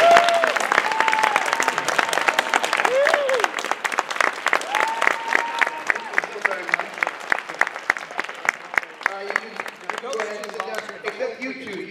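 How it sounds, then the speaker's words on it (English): Sustained audience applause at a convention closing ceremony, honoring the volunteers, with dense rhythmic clapping throughout and a few voices and whoops rising above it. "Please give them a round of applause."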